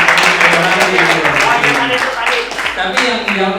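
An audience at a business mastermind gathering claps, dense steady applause filling the room at close range, with voices talking over it.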